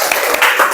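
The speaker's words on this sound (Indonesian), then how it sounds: "Tepuk tangan anak-anak." Children clapping their hands in an elementary school classroom at SD Negeri Kebonbatur 2, a quick, close, scattered burst of applause lasting under a second.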